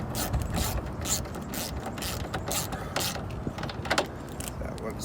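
A hand ratchet with a 5.5 mm socket tightens a headlight assembly bolt on a 2005-2007 Ford Super Duty truck, giving close, repeated clicking strokes in an uneven rhythm throughout.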